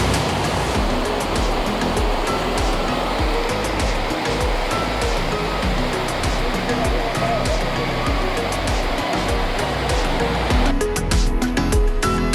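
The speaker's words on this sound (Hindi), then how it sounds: "यहाँ सामने नेपाल के पहाड़ों से आता हुआ झरना जो काली नदी में मिल रहा है।" A mountain waterfall pours down from the hills of Nepal into the Kali river, a loud, steady broadband rush of falling water that holds close and unbroken from start to finish.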